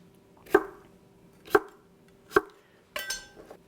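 Knife chopping cucumber on a cutting board while making cucumber kimchi, three sharp separate cuts about a second apart followed by a rougher scraping cut, close and clear with no talk.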